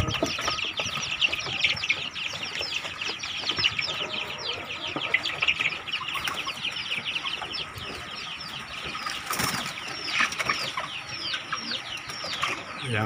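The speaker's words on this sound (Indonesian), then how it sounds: "anak ayam umur 1 bulan." Young KUB chickens on a farm, about one month old, clucking and peeping continuously as a dense flock, steady and fairly loud with no voices over it.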